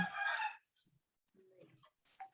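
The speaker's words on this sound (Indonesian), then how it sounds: "Suara ayam." A rooster crows once, loud and fairly close, its drawn-out call fading after half a second, followed by faint scattered clucks and small noises in a quiet setting.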